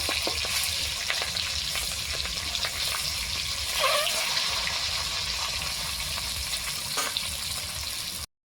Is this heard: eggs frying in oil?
yes